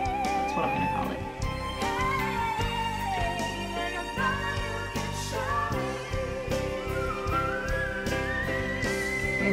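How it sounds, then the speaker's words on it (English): A singer sings a very high, thin whistle-register note in a song, rising over a dense musical accompaniment, sustained and bright. "And she goes with that whistle."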